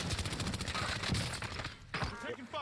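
Gunfire in the video game Call of Duty: Warzone, rapid automatic bursts crackling close and loud, with voices talking over the shooting.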